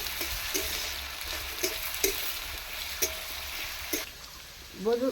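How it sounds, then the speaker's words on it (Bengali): Banana stem curry sautéed in a pan, a steady sizzle broken by regular spoon scrapes about once a second, close and moderately loud, with a brief voice near the end. "একটু ভালো করে কষে নেব"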